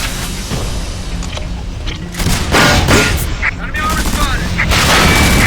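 Rocket launcher fire and explosions in the video game Frontlines: Fuel of War, loud booms and bursts of gunfire stacking up over steady battle noise and game music.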